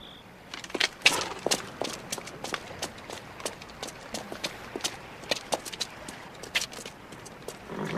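A horse's hooves clip-clop in a steady running rhythm, close and fairly loud, with no talk over them for the whole stretch.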